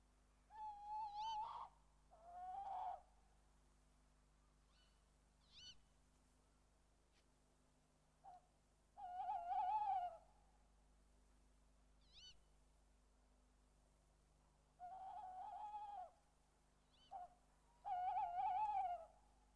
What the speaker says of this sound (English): Tawny owls are often much in evidence in winter and can be heard defending their territories